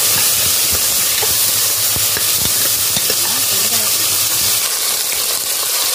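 Loud, close hissing sizzle from a hot pan frying ingredients for citron (narthangai) pickle with green chillies, a dense steady spatter broken by a few knocks and stirring scrapes.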